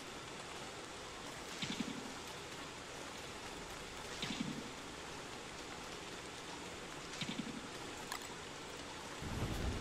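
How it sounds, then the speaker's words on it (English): Steady rain hisses in the game Don't Starve, a dense, even patter that continues throughout, broken by a few soft, regularly spaced thuds. "Hopefully this rain will stop here soon."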